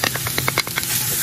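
Shallot hitting hot olive oil in a pan, a steady, close sizzle with quick crackling pops spread through it and no talking.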